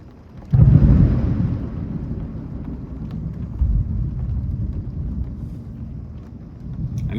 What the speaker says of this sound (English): Angry deity thunder and lightning.